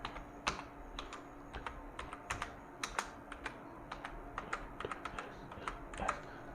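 Rapid, uneven keystrokes clatter on a computer keyboard while text is entered into a Microsoft Word 2007 document, close and fairly quiet, with short pauses between bursts.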